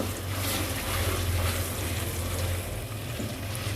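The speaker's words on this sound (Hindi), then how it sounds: "इसको थोड़ा सा घी में भून लेंगे" Methi malai matar masala paste roasting in ghee in a pan, a steady dense sizzle and bubbling hiss close by, continuous without pause and no voices over it.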